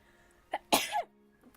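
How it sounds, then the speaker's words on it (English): A single sneeze from a person, with a short intake breath just before and a sharp, loud burst, then quiet. "There came the sneeze."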